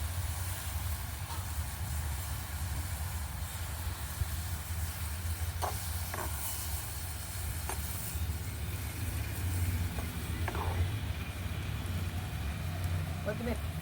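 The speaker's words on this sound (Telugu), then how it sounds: "టమాటాలు, పచ్చి టమాటాలు, పండు టమాటాలు ఇవన్నీ బాగా ఫ్రై చేస్తాం." Green and ripe tomatoes frying in a pan for a brinjal chutney, giving a steady, continuous sizzle with a constant hiss and a few faint clinks and stirring sounds throughout.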